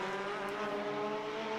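A Formula BOSS race car engine runs steadily at a circuit in Ireland, a continuous harmonic drone holding a fairly even pitch, moderately close and alone without talk.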